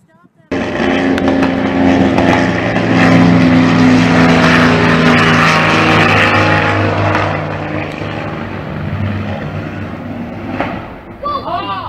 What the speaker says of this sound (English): There goes the airplane.